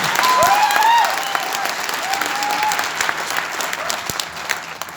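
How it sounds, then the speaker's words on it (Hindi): Sustained applause from a seminar audience, loud and steady across the whole span, with a few whistle-like tones rising over the clapping near the start. "जोरदार ताली बजाइए।"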